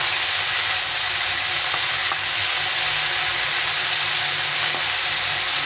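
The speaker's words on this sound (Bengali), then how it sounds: "সবজিটা একটু ভেজে নিলাম" Vegetables frying in a pan with a constant, dense sizzle and crackle up close, lightly stirred, with no voices over it.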